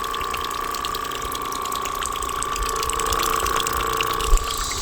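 A paint sprayer pump flushes water through its hose, giving a steady rushing, gurgling flow with a constant high whine, ending in a short knock near the end.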